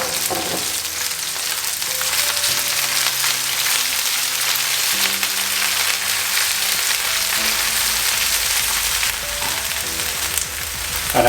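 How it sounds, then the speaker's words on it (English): Plenty of leeks frying in a pan for a turkey and leek pie, giving a dense, steady, close sizzle with light crackling that runs throughout, while soft background music plays underneath. "add our leeks, quite a few of these, and we're just going to let them fry for a couple of minutes"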